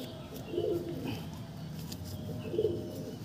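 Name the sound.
Andhra pigeon cooing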